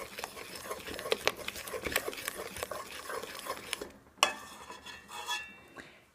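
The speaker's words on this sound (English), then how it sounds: "1 teaspoon of vanilla, and give it a good stir." A spoon stirs banana bread batter in a bowl after vanilla goes in, making soft, quick scraping and tapping against the bowl. A sharper clink comes near the end, and the sounds are close and fairly quiet.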